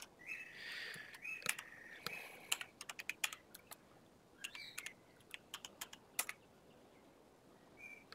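Irregular bursts of clicks and clacks from a computer keyboard as someone types while adding an addon car resource to a FiveM server, with a few faint whistling tones early on and quiet pauses between keystrokes.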